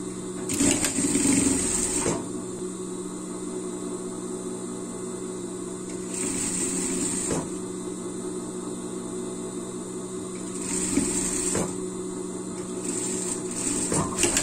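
A sewing machine runs a seam under the sleeve of a Minions costume, joining ribbed knit to ribbed knit. Its steady close whir continues throughout, with brief pauses and restarts.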